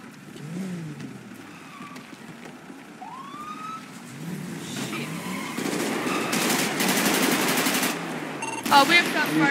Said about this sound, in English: We have shots fired.